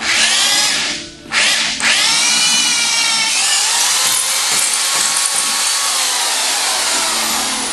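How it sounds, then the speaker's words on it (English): A power drill with a half-inch bit boring through material, a loud close continuous whine with one brief dip near the start, then steady grinding to the end. "I just simply take my 1/2 inch bit, go through the whole system"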